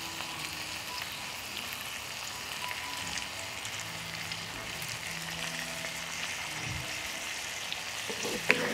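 A dish with fresh lemon juice squeezed in fries in a pan, giving a soft, steady, hissing sizzle that holds evenly throughout with no one talking.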